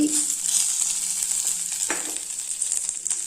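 Roasted ginger and grated coconut being sautéed in a pan make a steady close sizzle with soft stirring scrapes throughout, no voices.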